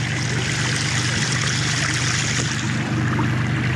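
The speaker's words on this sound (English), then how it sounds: "We got a really cool falls over here." Water pours steadily over a bubbling rock waterfall fountain at a house's front door, a constant close splashing rush with no pauses or talk.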